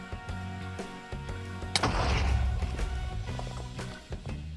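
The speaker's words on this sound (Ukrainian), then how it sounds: "один кріпер зірвався, другий помер від того вибуху" A creeper explodes in Minecraft: a sudden booming explosion bursts out over background music, loud and short, with a rumbling tail that fades over a couple of seconds.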